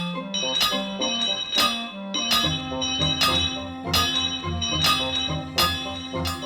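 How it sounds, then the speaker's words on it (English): Tank engine's bell in the Thomas & Friends cartoon ringing loudly, repeated bright metallic clangs in a steady rhythm over a low sustained musical backing. "I will ring my bell as loudly as I can"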